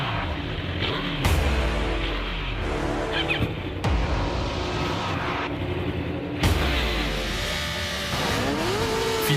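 Superbikes on Kawasaki, Suzuki, Yamaha and Honda machines launch off a race start line, engines screaming up through the gears with sharp rising and falling pitch sweeps and abrupt shifts, loud and close, no talk over them.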